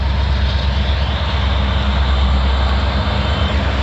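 A train with two engines passes in Burlington, Ontario, making a loud, steady, close rumble with a broad roar that holds without a break.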